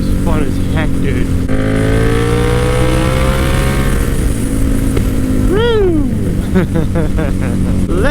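A Kawasaki Ninja motorcycle engine drones steadily and loud throughout the ride, its pitch climbing and falling through gear changes, with someone talking over it.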